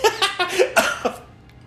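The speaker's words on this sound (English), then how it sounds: "I was trying not to cough on this fucking thing" A person coughs in a rapid series of about six harsh, close bursts that trail off into quiet, with no talking in between.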